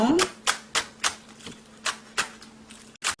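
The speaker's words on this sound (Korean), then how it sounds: "파는 작은 거 3줄 정도 잘라주세요." Knife chopping small green onions on a cutting board in evenly spaced sharp taps, close and fairly loud, with a faint steady hum underneath.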